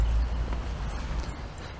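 Haflinger horses walk near Bad Hindelang in the Bavarian mountains, their hooves clip-clopping softly under a broad outdoor rumble.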